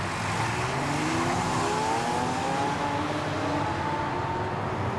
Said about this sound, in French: faire pousser un peu les moteurs pour s'amuser